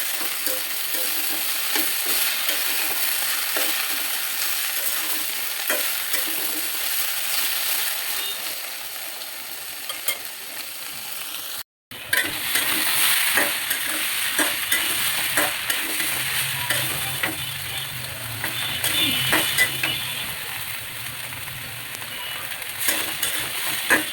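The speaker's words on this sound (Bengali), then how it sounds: "একটু নেড়ে চেড়ে দিয়ে মশলা মিশিয়ে নিব" Cabbage ghonto with fish head and ground cumin and garam masala stirred in a pan, spoon scraping and steady sizzling throughout, briefly cut out midway, with a low hum joining later.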